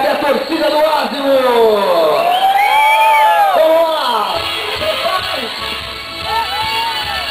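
A crowd at the 2006 Salão do Automóvel motor show cheers and whoops for Honda's Asimo robot, with loud yells and rising shouts over a busy, echoing hall as people talk nearby.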